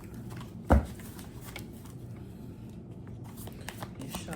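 Soft papery riffling of oracle cards being shuffled, with one sharp tap early on and a faint murmur in the background.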